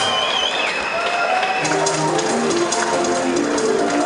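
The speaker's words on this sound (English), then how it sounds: "Big round of applause to Peter Kennedy." An MMA fight-night crowd claps after a TKO win, a dense wash of applause lasting the full few seconds, with tonal whistles or music lines sliding through it.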